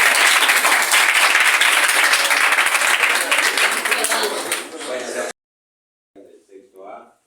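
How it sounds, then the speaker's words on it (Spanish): Audience applause for a school class presentation, dense and loud clapping sustained for about five seconds before cutting off, followed by a few faint trailing sounds. "Y otro aplauso para los que grabaron."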